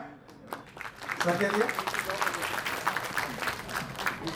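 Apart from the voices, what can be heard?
applause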